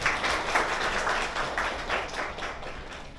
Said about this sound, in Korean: 다 같이 축하와 격려의 박수 한번 치고 진행하도록 하겠습니다